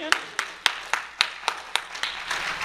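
Church congregation clapping in unison as a clap offering, about ten sharp, evenly spaced claps in a steady rhythm, close and fairly loud.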